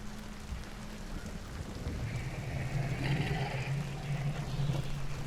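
Steady rainfall in the Hunt Showdown video game, a continuous hissing wash with a low rumbling layer underneath that grows slightly louder partway through.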